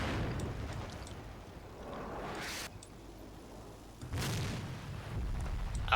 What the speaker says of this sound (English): Maybe a mortar round.